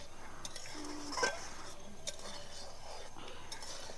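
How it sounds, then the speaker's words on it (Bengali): Spice paste is mixed into amla (Indian gooseberry) pickle with a spoon, giving soft scraping stirs and a couple of light metallic clinks against the bowl, quiet and close. "এবার আমি আচারের মধ্যে কিছুটা বেটে রাখা মশলা দিয়ে দেবো, যাতে আমলকির মধ্যে ভালোভাবে ঢোকে। দিয়ে ভালোভাবে মিশিয়ে দেবো।"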